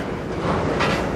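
A long CN freight train passes at night in Sarnia, Ontario, its cars clattering over the rails in a dense, steady rumble, near and fairly loud, with no speech.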